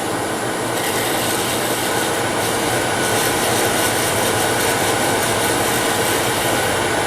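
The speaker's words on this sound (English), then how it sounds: "Back to our sandpaper." Sandpaper rubbing against a wooden Christmas ornament spinning on a lathe, a steady continuous rasping hiss under the lathe's hum, loud and close with no pauses.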